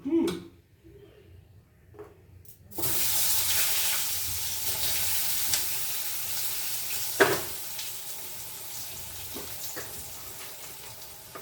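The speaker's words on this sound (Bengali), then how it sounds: "আমি এবারে বেগুনটা ভেজে নিই" Eggplant pieces dropped into hot oil for a Bengali fish curry burst into a loud, steady sizzle after a few quiet seconds of kitchen clatter, with occasional sharp pops and spatters.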